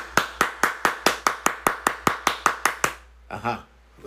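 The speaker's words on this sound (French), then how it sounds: "frappe les mains comme ça, frappe toutes les mains" A church congregation claps hands in unison during a prayer service, about fourteen sharp, evenly spaced claps at a steady rhythm, close and loud, then stops as a voice begins speaking.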